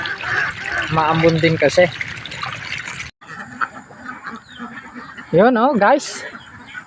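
Ducks quack loudly in short bursts amid splashing and trickling water as they are fed, with someone talking over much of it.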